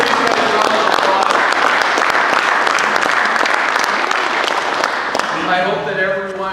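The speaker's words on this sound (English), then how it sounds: "give these guys a round of applause." An audience at a football coaches' meeting applauds the coaches, a dense round of clapping that holds steady, then thins toward the end as a voice starts talking over it.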